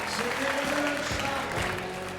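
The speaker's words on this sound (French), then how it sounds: "Applaudissons Monique sur l'escalier à midi." A studio audience at a French television game show claps, a dense steady applause mixed with a presenter's voice.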